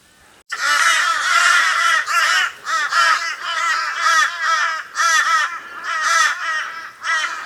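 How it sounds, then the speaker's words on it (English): Crows cawing overhead on a wooded island hillside track, a loud, close, continuous chorus of harsh, drawn-out calls with brief gaps, no talking. "I think these crows above me are following us up"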